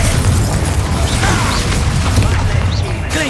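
A blasting spell explodes in the video game Hogwarts Legacy, a loud, dense booming crash in the thick of battle noise, with constant rumble and scattered impacts throughout.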